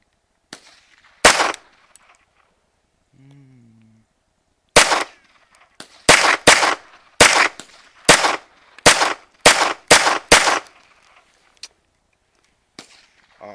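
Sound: gunshots fired

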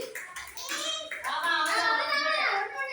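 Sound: children clapping hands fast in a bead-grabbing game

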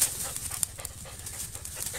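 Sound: hunting dog panting

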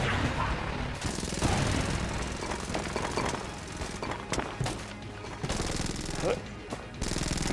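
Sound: gunfire in the video game Enter the Gungeon

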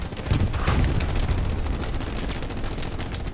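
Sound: gunfire in the video game Hell Let Loose

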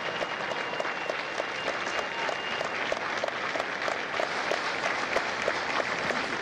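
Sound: audience applause at Marine graduation

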